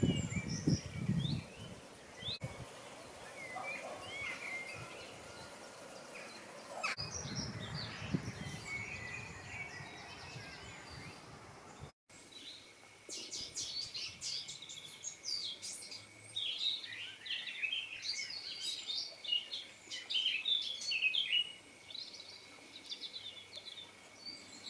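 Birds sing and chirp in bright, scattered bursts, faint at first and then busier and closer, over a quiet outdoor background with occasional rustling.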